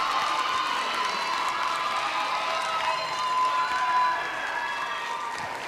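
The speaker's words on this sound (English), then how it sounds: "Another huge round of applause for Brooke and Sydney Peterson." An audience at an Erie Idol 2019 singing contest claps for the contestants, with cheering and whoops mixed into a steady, fairly loud wash of crowd noise.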